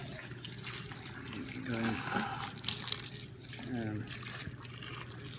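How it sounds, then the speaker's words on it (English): Hot water pours and splashes steadily over cherries in a container, with a voice murmuring briefly underneath. "Hot water over the fruit."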